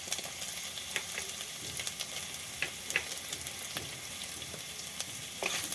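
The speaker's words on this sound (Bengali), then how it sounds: "সব উপকরণগুলোকে ভালো করে আমি একটু ভেজে নেব।" Capsicum and soya chunks frying in a pan for dry soya Manchurian, a soft continuous sizzle with occasional light clicks of stirring and no talking.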